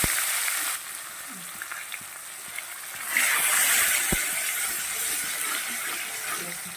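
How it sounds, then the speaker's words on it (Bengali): Sliced onions fry steadily in a pan, a continuous close sizzle with light stirring scrapes and a sharp tap partway through, while the hiss swells louder in the second half. "পেঁয়াজটা একটু ভাজা হবে বন্ধুরা"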